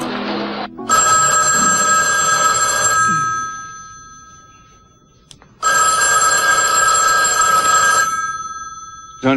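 Indoor telephone bell ringing loudly and close in two long bursts of about two seconds each, separated by a quiet gap, with no talking over it.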